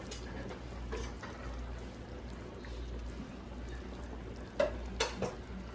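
Beef fat frying in hot oil for birria tacos, a steady low bubbling sizzle throughout with a few sharper clinks and spatters near the end.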